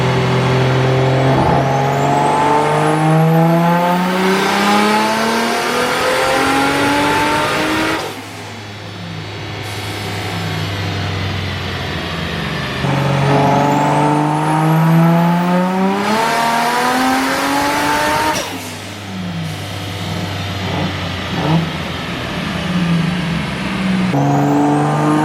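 A Nissan RB25-powered car screams through repeated dyno pulls, its engine note climbing steadily in pitch before abruptly cutting off, with loud, harsh, crackling revving that cycles several times.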